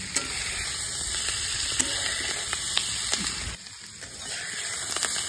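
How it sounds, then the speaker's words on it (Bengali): Boiled potatoes, capsicum and onion sizzle steadily in butter in a kadai for a Dhaba-style aloo bhuna, a close, continuous frying hiss broken by sharp spatula scrapes and a brief dip in the crackle. "বন্ধুরা আলু ক্যাপসিকাম পেঁয়াজ আবার ফ্রাই হয়ে গেছে"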